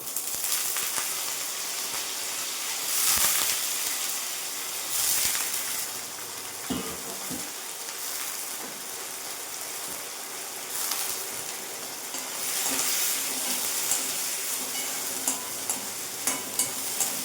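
Washed radish greens hitting a hot pan for a besan radish-greens sabzi: loud, close sizzling and hissing with repeated stirring scrapes and a few sharp clanks toward the end.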